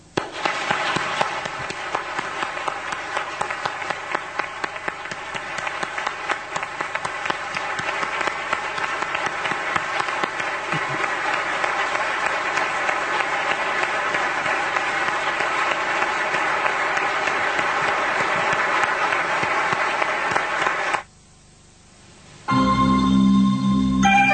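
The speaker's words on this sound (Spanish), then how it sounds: "Dediquémosle nosotros un aplauso caluroso a este gran hombre y gran amigo que se nos fue." Warm, sustained audience applause in tribute at a gathering honoring a late UFO researcher, steady and dense for about twenty seconds before stopping abruptly, followed by a brief different sound.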